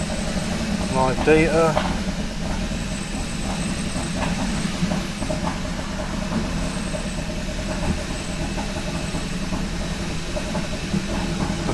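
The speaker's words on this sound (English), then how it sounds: "Well, it's definitely misfiring again." A Kia Ceed GT engine misfiring at idle, a steady rough, uneven drone running throughout with a voice talking over it briefly.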